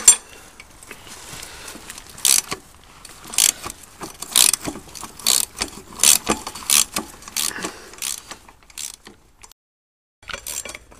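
Ratchet wrench backing out the bolts on a dirt bike's rear sprocket, a series of sharp metallic clicking bursts spread across the clip, close and fairly loud with short pauses between, ending in a brief quiet gap.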